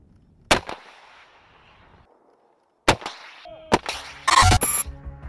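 Sharp, loud blasts of RPG-7 rocket launcher fire: one boom with a fading tail, then a second burst of several close, cracking shots.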